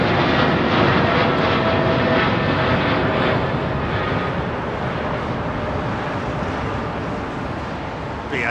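A British Airways jet airliner rolls for takeoff at Heathrow, a loud close continuous engine roar filling the clip at full strength and easing only slightly toward the end, with faint talk beneath it.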